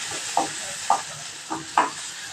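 Onions and green chillies sauté in oil in a kadai for a simple chutney, with a constant close sizzle broken by four distinct spatula stirs at a slow, even rhythm.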